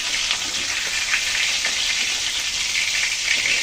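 Hilsa fish frying in oil makes a loud, steady, close sizzle with a dense, crackling hiss and occasional small pops, with no talking over it.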